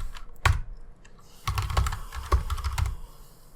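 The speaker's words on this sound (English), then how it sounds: "you can just open your terminal and then type in sudo apt install" Keys clatter on a computer keyboard as a Linux terminal command is typed, close and fairly clear, in a few quick bursts of clicks separated by short pauses, with no talking.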